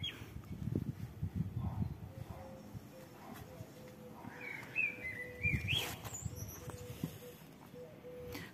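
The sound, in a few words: bird chirping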